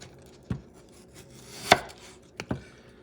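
Sharp knife cutting through food on a board, four distinct chops spaced irregularly against near silence, one noticeably louder than the rest.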